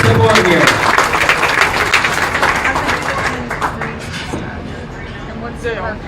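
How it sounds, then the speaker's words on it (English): Crowd at a county fair swine show claps over a murmur of voices, strongest at first and thinning out, with talk continuing underneath. "Let's give a round of applause for a great support here."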